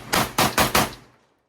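A Core 12 shotgun fires 12 gauge number 8 shot in four fast, loud, close blasts, each sharp crack following quickly on the last before a brief fading tail.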